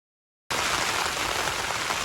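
Heavy torrential rain pours onto a tent while wild camping in a storm at Helvellyn in the Lake District, starting abruptly after silence as a dense, loud, continuous hiss.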